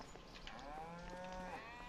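Cattle lowing and bleating in Farming Simulator 25, a couple of drawn-out calls rising and falling over a steady low farm ambience, fairly close and clear.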